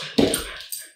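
A tiny dog of about ten pounds lets out one sharp bark followed by a shorter, softer yip, both close and fairly loud indoors.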